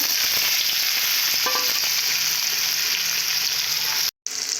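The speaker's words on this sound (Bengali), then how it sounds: "পেঁয়াজগুলো ভালো করে ভেজে নিয়েছি" Onions frying in a pan give a loud, steady sizzle throughout, with a few light stirring clinks and a brief cut-out near the end; no one speaks.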